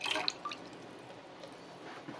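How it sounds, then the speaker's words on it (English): Water poured into the reservoir of an Elecrow GrowCube smart plant-watering device, a close splashing and trickling fill with a few drips at the start that settles into a steady, soft run of liquid. "Now you're ready to fill up the grow cube with water."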